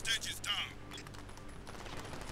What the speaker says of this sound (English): Oh shit, they're shooting my friend.